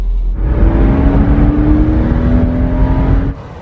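A salvage Porsche Boxster with newly repaired suspension pulls away in first gear, its engine note rising steadily in a loud, close, continuous drone before dropping off suddenly near the end.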